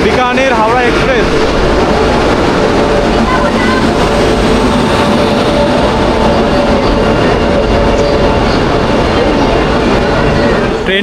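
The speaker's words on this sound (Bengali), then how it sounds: "অন্তত আমাদের ট্রেন ঢুকলো 12372 বিকানির হাওড়া এক্সপ্রেস।" The 12372 Bikaner Howrah Express pulls into the Delhi Junction platform, a loud, continuous rumble and clatter of rail cars that fills the whole stretch without a break.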